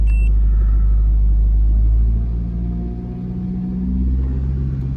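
A car engine holds at about 2000 RPM during a catalytic converter check, a steady heavy rumble close by that eases slightly partway through, then swells again.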